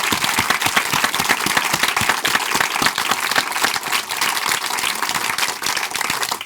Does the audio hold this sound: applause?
yes